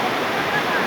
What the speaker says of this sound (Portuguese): para vir nessa cachoeira.